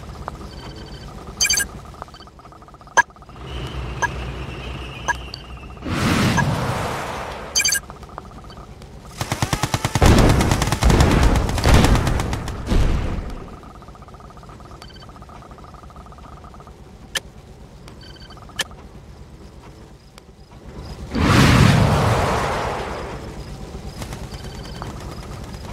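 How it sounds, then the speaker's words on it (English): Missiles launch and detonate in the Red Alert 2 Yuri's Revenge Soviet campaign, several loud roaring bursts of blast and rumble separated by quieter stretches of clicks and game effects. "Missile launch confirmed."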